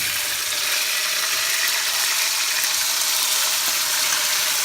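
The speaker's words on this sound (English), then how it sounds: "Next step, we will put the marinade that we used earlier." Marinade pours steadily into a pan for Kapampangan chicken asado, a continuous broadband hiss and sizzle holding even and close for the whole stretch with no talking.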